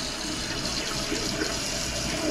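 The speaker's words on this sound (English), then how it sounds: "Now all I'm doing is just holding it, overflowing the bowl." A toilet bowl overflowing as water keeps running in from the fill valve, a steady loud rushing and gurgling of water with no talk over it.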